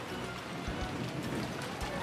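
Someone sprints through pouring rain in a dramatized anime scene: a few quick, dull footfalls thud beneath a constant wash of rain noise, fairly close.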